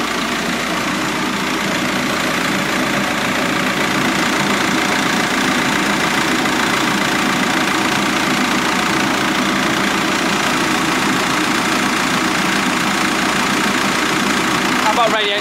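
A VW T5 Transporter 1.9 TDI diesel engine idles after a cylinder head refit, a steady close knocking rumble running evenly throughout, with someone talking over it.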